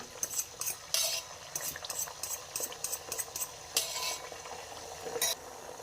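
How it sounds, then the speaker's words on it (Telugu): Beaten eggs cooking in hot oil in a pan for egg fried rice while being stirred: repeated scraping and clattering strokes of a utensil against the pan over a soft, steady sizzle, heard close and without talk. "ఆ ఎగ్స్ ఆ బీట్ మొత్తం ఇందులో వేసేసుకోవాలి."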